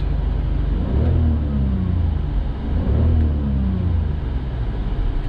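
The engine of a 2001 BMW 325i E46 wagon that has sat for three months is revved twice as the throttle is pressed. Each rev rises and falls over a steady, close, rumbling idle.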